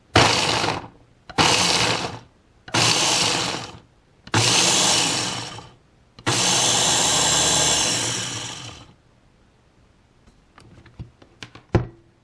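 A Ninja Master Prep Pro food processor grinding carrots, run in five loud whirring pulses that lengthen in turn, the last held several seconds, then a few quiet clicks and clatters of handling.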